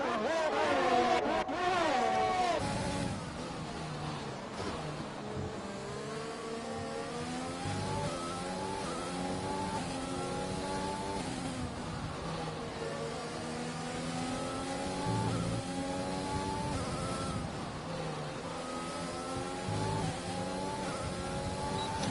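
Racing car engines, a Ferrari among them, drone through a race in Italy in a racing video game, rising and falling as the cars rev through the gears over a long, steady stretch.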